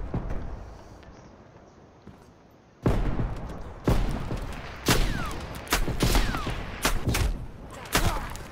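Sniper gunshots ring out in a video game: about six sharp, loud cracks spaced roughly a second apart, each followed by a brief echoing tail, after a quieter stretch of ambient noise.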